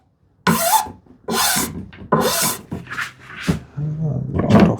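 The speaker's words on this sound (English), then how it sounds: "ease those corners, basically chamfer those with a file" A hand file rasps along the corners of a wooden piece to chamfer them, in several loud, close strokes about a second each, followed by shorter scraping rubs.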